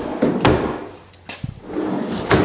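A 100% slide-out drawer on a mobile kitchen island with a thick end-grain butcher block top, rolling and thudding shut with a couple of close wooden knocks and a short sliding rumble.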